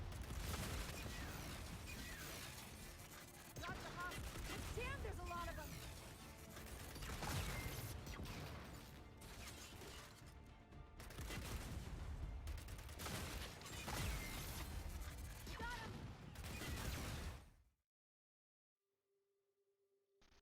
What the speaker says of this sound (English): it does fire explosive rounds